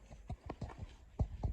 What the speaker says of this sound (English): if you want to back your horse out of the trailer